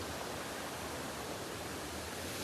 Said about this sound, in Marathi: आपण फायनली आलो साऊथ कडा वॉटरफॉलला